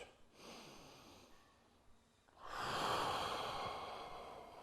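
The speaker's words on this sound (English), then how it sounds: "Slow, controlled breathing." Slow, controlled breathing during a men's yoga workout: a quiet, drawn-out inhale, then a fuller, louder exhale that lasts several seconds. It is close and alone, with no talking.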